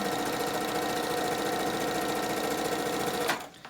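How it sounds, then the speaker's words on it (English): Sewing machine stitching down the edge of a tie runs at a fast, steady mechanical rattle, loud and close, then abruptly stops just before the end. "grab my tie, hold it so it doesn't get run over, pull it in to the edge, and then sew clear down to the bottom"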